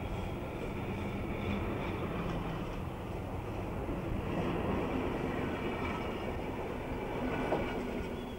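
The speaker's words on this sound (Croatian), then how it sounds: "A sada vraćam vlak nazad." A JŽ 611 aluminium passenger train reversing, giving a steady, loud rolling rumble and rattle that holds evenly throughout with no voices.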